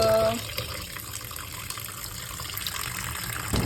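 Tap water runs steadily over raw chicken being washed at a kitchen sink, a continuous close rush with a brief tap sound at the start, no speech.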